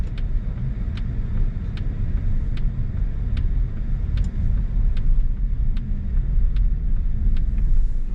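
Turn-signal ticking inside a Polestar 2 during a drive, a regular series of sharp clicks about every three-quarters of a second over a continuous low road and cabin rumble.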